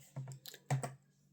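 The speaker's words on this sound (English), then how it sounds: "you're going to see me typing" Keys clatter on a computer keyboard in a few short, uneven bursts, close and fairly quiet, with a gap before the last flurry and silence after.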